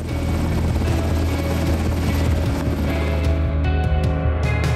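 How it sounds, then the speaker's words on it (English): A Sikorsky S-70B Seahawk naval helicopter aboard a navy ship: heavy rotor drone and turbine whine fill the recording, loud and steady, thinning out near the end. "with our Air Force's Sikorsky S-70B Seahawk naval helicopter on board"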